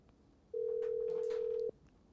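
A telephone call is placed: a single steady tone sounds for about a second, clear against a quiet background.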